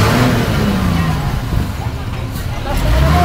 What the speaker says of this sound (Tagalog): Medyo nagkaka-traffic po dahil yung malaking truck.